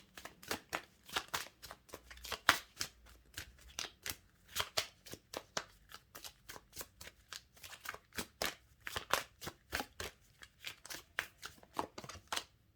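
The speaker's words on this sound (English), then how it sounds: "Final card for my Capricorns, please, Michael." Tarot cards are shuffled by hand in a quick series of soft, crisp riffling flutters and taps, close and fairly quiet, repeating in an uneven rhythm throughout.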